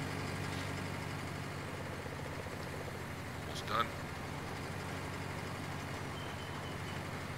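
Tractor engine in Farming Simulator 19 running steadily with a low, even drone, a brief clank partway through, while a voice speaks briefly over it.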